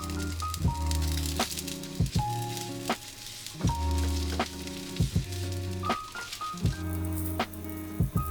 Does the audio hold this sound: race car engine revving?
no